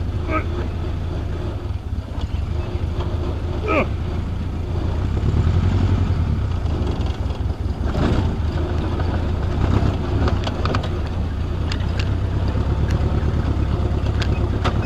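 A Jeep M38A1 engine runs at low throttle while the vehicle backs up, giving a continuous low rumble with some wind buffeting and people talking over it.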